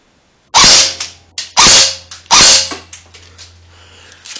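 An ACM Oakley airsoft gun fires three sharp, loud, close shots about a second apart, each a crisp crack followed by a brief mechanical rattle, with faint clicks in between.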